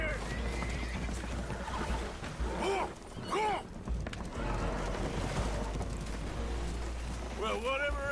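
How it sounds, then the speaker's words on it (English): Spooked horses in a PS4 video game whinny and neigh several times aboard a leaking boat taking on water, with sloshing water and hoof clatter underneath and game dialogue in between. "Horses are spooked, and we're taking on water."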